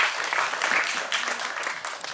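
An audience applauds steadily at a volleyball league press conference, a dense, even patter of many hands clapping throughout with no voices over it.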